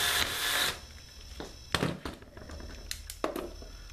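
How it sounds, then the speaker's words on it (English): A power drill whirs briefly at the start, driving in eye bolts, followed by a few short knocks and clunks of hardware being handled. "screw in the eye bolts using your drill"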